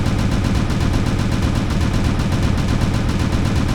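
A rotary AC2 autocannon in a video game fires in a loud, sustained burst of rapid shots that continues evenly without pause, with no voices over it.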